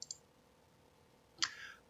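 Two sharp, faint mouse clicks land on sorting arrows, one at the start and another just before the end, separated by near silence.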